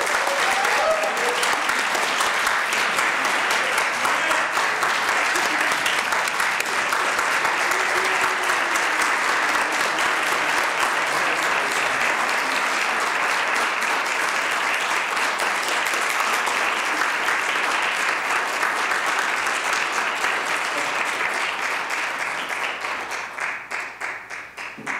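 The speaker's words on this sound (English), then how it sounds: "Please join me in saluting Ashley with a round of applause." Sustained applause from a large audience at a city Martin Luther King Jr. holiday celebration, dense and loud for over twenty seconds before tapering off at the end.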